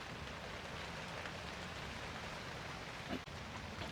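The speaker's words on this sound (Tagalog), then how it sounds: "umuulan na po sa labas" Steady rain falls outside a hut, heard from inside as a dense, even hiss with no voices, broken only by a brief knock near the end.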